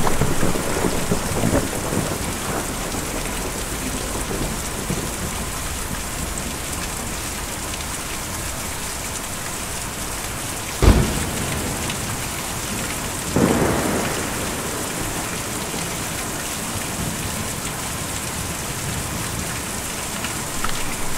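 Steady heavy rain in the video game Kentucky Route Zero, with a constant hiss of drops on surfaces and two sharp thunder cracks midway, the second rolling off into a low rumble.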